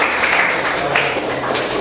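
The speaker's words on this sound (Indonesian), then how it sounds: "Tepuk tangan untuk kalian semua." Classroom applause from students during a school lesson, a dense steady patter of clapping lasting under two seconds, fairly loud and close.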